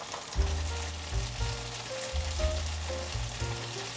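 Vegan shredded potato omelette, made to mimic egg, fries in a pan with a soft, steady sizzle and crackle, faint and close, with background music running underneath.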